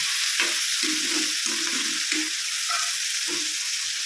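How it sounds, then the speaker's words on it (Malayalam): Onion, green chili and tomato sautéing in oil for a jackfruit seed curry, with a continuous sizzle and several rhythmic stirring scrapes of a spoon against the pan, close and clear. "സവാളയും പച്ചമുളകൊക്കെ വാടി വന്നിട്ടുണ്ട്. അപ്പോൾ തക്കാളി ഇട്ടു."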